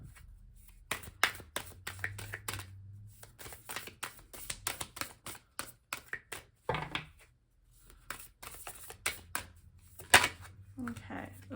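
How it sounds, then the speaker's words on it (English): Repeated crisp riffling bursts of cards being shuffled, close up, with brief pauses between passes and a voice speaking intermittently over them. "I'm gonna shuffle once more, and then I'll cut these cards as well"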